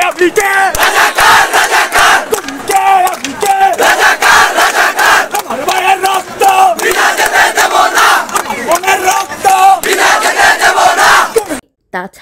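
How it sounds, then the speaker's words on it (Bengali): Students protesting for quota reform, blocking the Dhaka–Sylhet highway in Narsingdi, chant "bhuya bhuya" slogans as a loud, rhythmic crowd that repeats in steady waves close by and cuts off abruptly near the end. "এই আন্দোলনে ভুয়া ভুয়া স্লোগানে মুখরিত হয় সম্পূর্ণ এলাকাটি"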